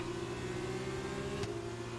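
An F2 racing car engine in a video game holds a steady high-pitched drone with strong harmonics, briefly dipping near the end as the car runs wide into the first turn.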